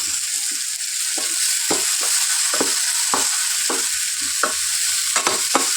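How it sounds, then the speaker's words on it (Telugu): Ginger garlic paste fries in a hot pan with a steady bright sizzle, punctuated by regular scraping stirs of a spoon, close and alone without speech. "1 టేబుల్ స్పూన్ అల్లం వెల్లుల్లి పేస్ట్ యాడ్ చేశాను. పచ్చి వాసన పోయేంత వరకు బాగా ఫ్రై చేసుకోవాలి."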